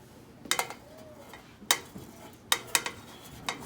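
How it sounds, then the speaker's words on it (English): Dried Dunhill 965 pipe tobacco from 2003 being tipped and spread out in a pan, a few sharp metallic clinks and scrapes spaced irregularly, close by, with quiet rustling between them. "So I'm just going to transfer this into a pan, spread it all out"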